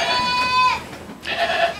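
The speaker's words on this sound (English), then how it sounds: "goats aren't usually this loud. It just happens to be feeding time, and there's babies." Goats, with young kids among them, bleat loudly at feeding time: a long wavering cry followed by a second bleat after a short pause, close and clear.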